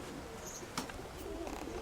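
Pigeons coo softly at a rural pigeon loft, low murmuring calls heard faintly at a distance, with a brief sharp sound partway through and no voices.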